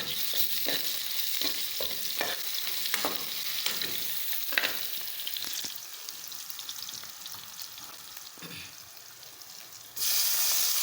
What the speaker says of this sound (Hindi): अब मैं इसमें ये थोड़ा सा लहसुन डालूँगी